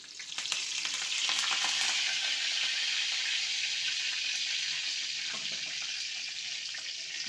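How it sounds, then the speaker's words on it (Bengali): Curry leaves and dried red chillies tempering in hot white oil, a steady, close hiss and crackle of frying that holds throughout with no talking. "তেলটা গরম হয়ে গেছে, এখন আমি কারি পাতা আর শুকনো লঙ্কাটা ফোড়ন দিয়ে দেবো।"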